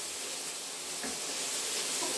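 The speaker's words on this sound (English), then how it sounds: "Nice hot pan for this, so you want to get the peppers and onions nicely charred." Peppers and onions charring in a hot pan give a steady, loud, broad hiss and sizzle with no break and no talk.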